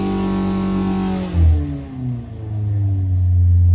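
A 1040 car engine revs hard on a dyno, harmonics sweeping upward and then dropping away before settling into a loud, steady roar close to the mic.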